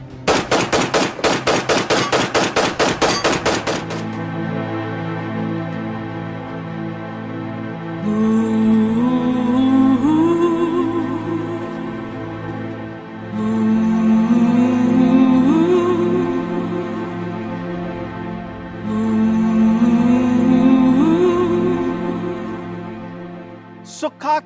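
A rapid burst of gunfire from sharpshooters rattles out at the start, loud and dense shots in quick succession, followed by a long stretch of music with swelling tones.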